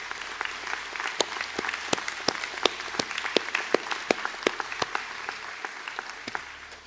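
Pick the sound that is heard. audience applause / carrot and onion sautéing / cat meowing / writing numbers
audience applause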